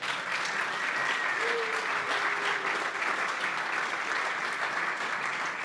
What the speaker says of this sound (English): okay, some applause